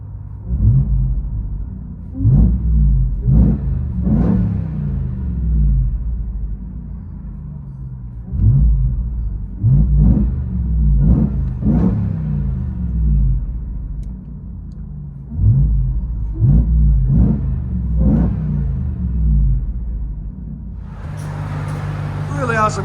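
Supercharged 6.2L V8 of a RAM TRX pickup with SLP Loudmouth exhaust, heard from inside the cab: repeated bursts of throttle revving rise and fall in clusters, a deep rumble between, with a voice talking near the end.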